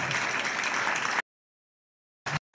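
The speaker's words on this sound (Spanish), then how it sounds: "Así que este aplauso." An audience at a Christmas gala breaks into dense, steady applause that cuts off abruptly, then resumes in two short bursts after a second of silence.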